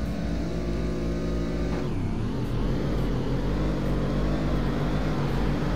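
Two Ford F-150 pickups in a drag racing game, one with a 3.5 EcoBoost V6 and one with a 5-liter V8, drone loudly and steadily, with engine pitch dropping sharply at a gear change then climbing again.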